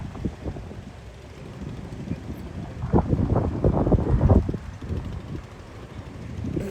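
Strong wind gusts blow over the sea at the new Pamban bridge, rumbling into the microphone with a steady roar that swells in the middle and then eases.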